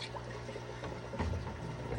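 Water pours and sloshes steadily into a container holding live aquarium fish, a faint, continuous splashing fill with no talk.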